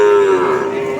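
Limousin cattle at a busy cattle market, one loud close moo held steadily for about a second with faint crowd noise behind.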